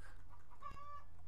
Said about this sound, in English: Chickens are being really loud today.